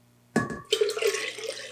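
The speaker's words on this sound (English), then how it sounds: "pour this incredibly hot liquid into here" Hot cider liquid is poured straight into a container without a funnel: a short splash, a brief pause, then a continuous close gurgling pour.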